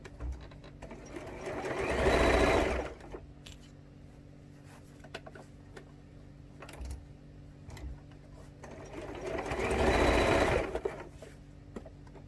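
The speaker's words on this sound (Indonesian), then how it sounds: "Ini kita potong dulu, kita jahit dulu di bagian lengkungan." A sewing machine stitches the curved edge of a fabric pouch in two rapid mechanical bursts, separated by a quiet pause with faint handling clicks.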